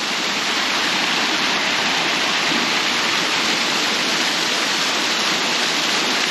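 Loud, continuous rushing of a waterfall beside a hiking trail at Pictured Rocks National Lakeshore, a dense unbroken roar close by with no voices.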